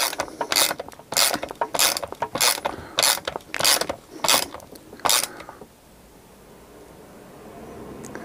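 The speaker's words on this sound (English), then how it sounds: "So now we tighten up the wheel onto the axle." A wheel is tightened onto an axle of a gear drive, giving about nine rapid ratcheting clicks in even bursts, close and fairly loud, then fading into quiet hiss.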